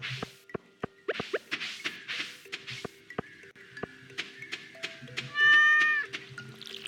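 A cat meows repeatedly in a series of short, close calls, with scattered clicks and knocks between them and one longer, louder meow near the end.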